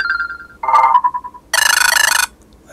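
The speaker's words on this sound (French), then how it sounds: "on va regarder un petit peu la sonnerie tout de suite" A Mlais M7 5.5-inch smartphone plays its default ringtone: a short two-tone electronic chime followed by a loud, rapid buzzing trill, up close and with no talk.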